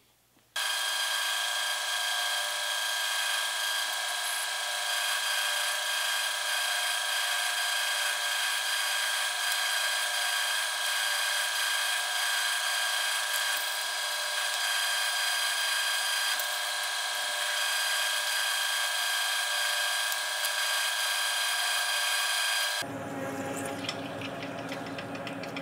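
A power drill runs steadily for over twenty seconds boring into 4130 pre-hardened steel in a workshop, a continuous high whine with a bright tonal edge that stops abruptly near the end.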